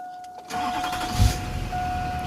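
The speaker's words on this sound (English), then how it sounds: "Fires up good." An LB7 diesel truck engine cranks and fires up after a quiet half second, then settles into a steady, loud, close idle, with a brief rev bump partway through and no talking.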